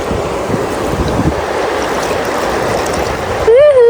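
Mountain stream water in Georgia rushing steadily and close with a hand dipped into it, a continuous broadband flow that breaks off abruptly near the end as a voice begins speaking.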